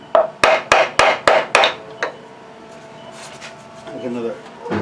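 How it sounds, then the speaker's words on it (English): Several sharp taps seat a wood worm chuck on a Fay & Scott lathe: about six quick close knocks, then one more. A voice follows. "I'm going to tap it a couple of times just to make sure it's seated."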